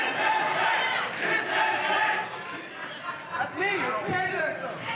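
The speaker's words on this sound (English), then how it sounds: "Crowd letting us know that this match spanks." A wrestling crowd at a championship match roars and chants in a dense, steady wall of many voices, sustained for several seconds with slight swells.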